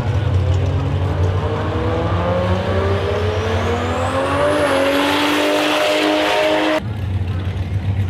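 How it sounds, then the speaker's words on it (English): A turbocharged car engine revs up while the turbo spools, its note climbing steadily with a thin rising whine above it, loud and close, before the engine drops back to a rumbling idle near the end. "I'm waiting for it to spool up"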